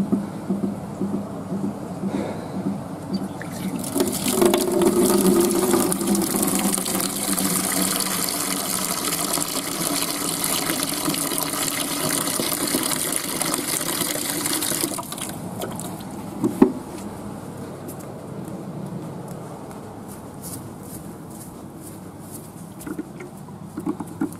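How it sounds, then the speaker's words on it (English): Water pours and gushes steadily onto a burning Xbox controller for several seconds with a hissing spray, then stops, leaving quieter crackling and a few knocks. "it's time to put some water on it."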